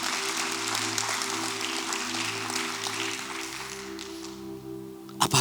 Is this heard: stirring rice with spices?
no